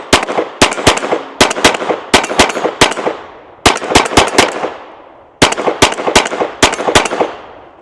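Sharp, loud shots from a Smith and Wesson M&P 22X pistol firing .22 rounds at a range, coming in quick bursts of two to four with short pauses between strings, each crack trailing into a brief ringing echo.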